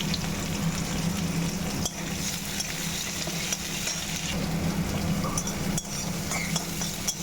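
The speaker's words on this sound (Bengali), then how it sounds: "এবারে পেঁয়াজ আর যে রসুনটা কোচানো ছিল ওইটা দিয়ে দেবো।" Chopped onion and garlic fry in a hot pan with a steady, dense sizzle, close and continuous, broken by a few faint clinks of a utensil against the pan.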